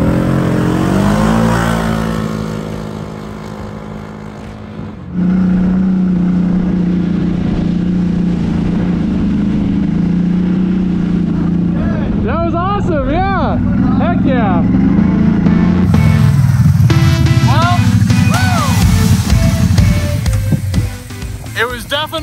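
A CFMOTO 1000 side-by-side with a tuned ECU and upgraded air intake drag races a Can-Am Maverick, engines revving loudly and climbing through gears after a countdown, with shouting voices over the close, sustained roar.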